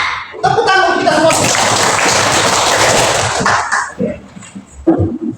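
A school class clapping hands together, a dense burst of applause lasting about three seconds, with voices heard briefly before and after it.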